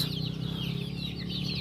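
Young gamefowl chicks in a backyard breeding pen cluck and peep in a busy overlapping chorus, with steady soft chirps close by and no talking.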